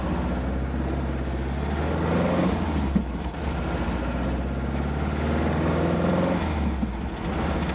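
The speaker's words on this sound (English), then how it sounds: "I love that sound of that Volkswagen engine." A Porsche 914 with a Volkswagen engine runs while driving, a steady low rumbling drone with slight variation in pitch, heard from inside the car for several seconds with no talking.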